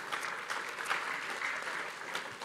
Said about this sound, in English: Please, big applause, please, for the speakers.